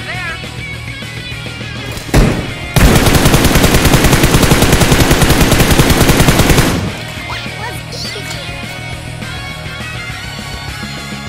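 Automatic gunfire in a shooting video game, one sharp shot followed by a loud, continuous rapid burst lasting about four seconds, then quieter game ambience.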